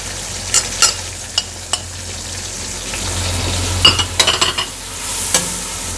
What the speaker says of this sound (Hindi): अब इसमें टमाटर डाल दूँगी मैं। तो टमाटर के साथ ही मैंने जो सारे ड्राई मसाले थे वो भी डाल दूँगी।